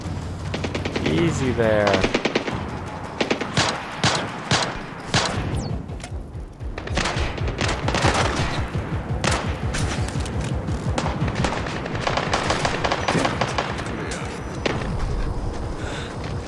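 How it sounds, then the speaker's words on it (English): Gunfire in the video game Splinter Cell Blacklist on an airstrip: loud rapid bursts of automatic weapon fire with heavy booms and thuds, continuing in dense clattering volleys while a voice briefly speaks. "Why is there shooting back there?"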